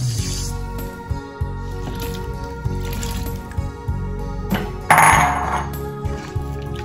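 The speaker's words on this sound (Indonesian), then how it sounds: "Siram santannya." Coconut milk pours and splashes into a cooking pot with wet, squishy bubbling and sizzling, close and fairly loud, without talk.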